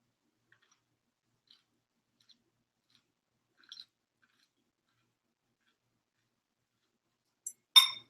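Faint, sparse mouth clicks from someone eating shrimp scampi, a few soft ticks spread out over near silence, then a brief louder crunchy burst near the end.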